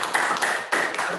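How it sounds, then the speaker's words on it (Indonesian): Brief clapping for the students during a school webinar, a few close, sharp hand claps in quick uneven succession. "kita beri tepuk tangan dong untuk semua anak-anak hebat"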